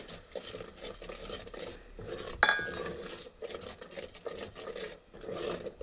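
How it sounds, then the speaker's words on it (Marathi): A spoon stirs spice masala through hot oil in a metal pan while tempering for pav bhaji, with soft scraping strokes, faint sizzle and one sharp clink partway through. "हे सुद्धा तेलात मिक्स करून घेऊ, म्हणजेच फोडणी करून घेऊ"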